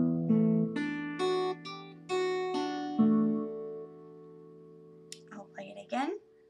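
Acoustic guitar picking out the riff from a song, a handful of clear plucked notes ringing and overlapping, then fading out before brief speech at the end.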